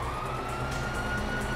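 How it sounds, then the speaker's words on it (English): Police sirens blare during a chaotic GTA V shootout, a steady wailing tone sustained over dense game noise and engine rumble throughout the short moment. "You hear that? Sirens!"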